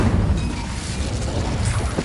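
An Incendio fire spell cast in Hogwarts Legacy gives a loud, steady, roaring burst of flame with a dense rumble and crackle lasting a couple of seconds.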